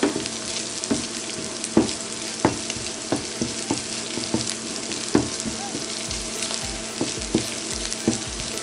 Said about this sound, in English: probably another minute of sauteing